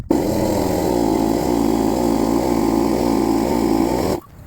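A steady, loud air compressor or inflator hiss-drone fills a clogged tire on a long-parked Mercedes W123 300D, running continuously for about four seconds before cutting off abruptly.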